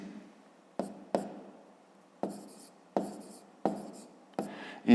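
Pen writing on paper while working a fifth-grade math exercise, with short scratchy strokes in separate bursts, close and fairly quiet, with no voice.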